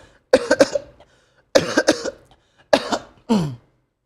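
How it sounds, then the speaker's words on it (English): Four separate bursts of coughing, close and fairly loud, each a quick cluster of harsh coughs with quiet pauses between. "That's how you cough in this kind of game."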